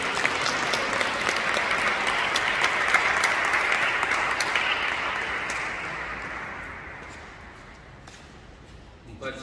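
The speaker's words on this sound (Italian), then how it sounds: "Vogliamo con lui un applauso." Conference audience applauds a guest speaker, a priest expert in social communications, with dense steady clapping that fills the room and slowly fades toward the end.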